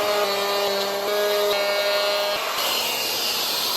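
A power tool cuts wood for a fingerboard park build, a steady loud whine with buzzing tones that shifts in pitch as the cut goes on.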